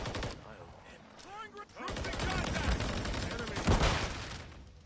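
Gunfire in the game Modern Warfare 3 crackles in sustained rapid bursts, loud and close, with a player's voice talking over parts of it.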